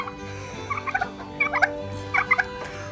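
A turkey on a small farm gobbles in three quick, rattling bursts, close and clear over a steady low background hum.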